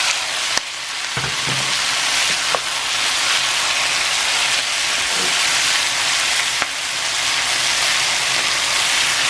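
Pork belly and ribs hit a hot pot for sinigang with a loud, dense, continuous sizzle, punctuated by a few sharp knocks and scrapes of a utensil, close up.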